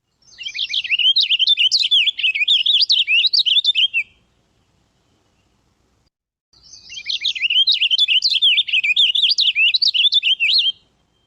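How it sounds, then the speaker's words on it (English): Two bursts of a purple finch's fast, high, sweet warbling song in winter, each lasting about three seconds, separated by a quiet pause; clear and close. "I don't have a lot of experience of purple finch warble."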